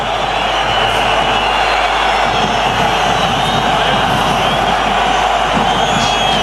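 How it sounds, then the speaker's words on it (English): A rugby stadium crowd at a Perpignan versus Clermont match roars after a late tackle, a loud, sustained wall of voices with jeers and whoops swelling through it. "Listen to the crowd."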